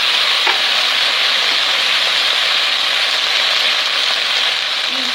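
Homemade sauce for lacquered duck leg sizzling in a hot pan, a loud, even hiss with a faint clink near the start, steady for several seconds.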